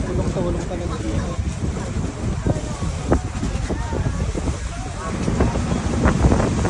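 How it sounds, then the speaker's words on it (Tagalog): Strong wind roars across the microphone on an island-hopping boat tour off El Nido, Palawan, with waves washing around the hull, a loud continuous rushing noise beneath a person talking. "Grabe yung lakas ng hangin yan. Tsaka yung yung alon."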